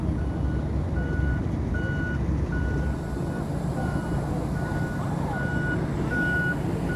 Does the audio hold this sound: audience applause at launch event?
no